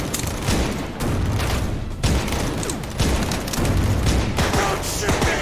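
Dense, continuous volleys of gunfire and booms fill a VR shooter game set in a cactus-versus-plants war, played on a Meta Quest Pro, with heavy bursts overlapping with hardly a pause.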